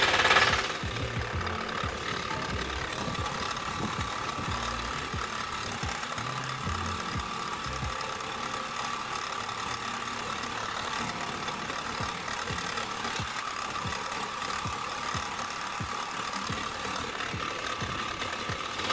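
A DTZ-K walk-behind tractor engine runs continuously in second gear, a steady, loud, rapid chugging drone with mechanical clatter, close to the microphone for the whole stretch.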